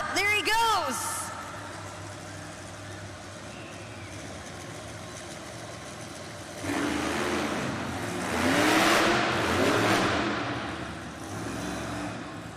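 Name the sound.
monster truck engine revving during two-wheel freestyle run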